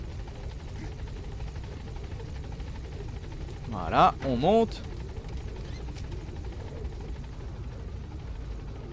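A helicopter in Metal Gear Solid V: The Phantom Pain arrives and hovers with a steady, loud rotor drone throughout, while someone speaks briefly midway.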